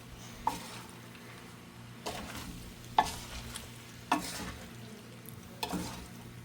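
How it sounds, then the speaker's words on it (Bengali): Pasta being stirred and tossed with tasting salt in a pan, soft scrapes and clinks of a utensil recurring every second or so over a low, steady sizzle. "এখন আমি আবারও নেড়ে চেড়ে এগুলো মিশিয়ে নিচ্ছি"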